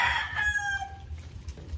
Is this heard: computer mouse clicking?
no